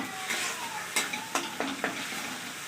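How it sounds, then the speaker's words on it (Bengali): A paste of centella leaves is stirred in a pan with a soft sizzle underneath, a spoon scraping in several short, sharp strokes that come at uneven intervals, close and clear. "এটা নেড়ে নেড়ে ভালো করে রসটা টানিয়ে নেব।"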